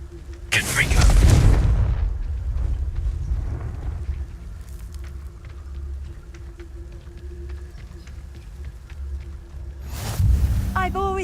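Confringo spell blast in Hogwarts Legacy, a deep booming explosion early on followed by a long rumbling decay over ambient game sound, then a second loud burst near the end.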